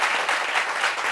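Studio audience on a French-language talk show applauds a guest, a dense continuous patter of clapping throughout the short stretch.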